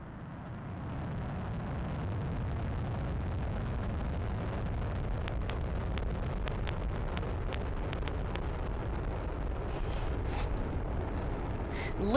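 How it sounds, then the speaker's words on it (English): Steady, low rumbling roar of an Atlas V rocket lift-off carrying twin spacecraft, heard from a distance as a continuous broad wash of noise with faint crackling, no voices. "Lift off the Atlas V rocket and twin spacecraft"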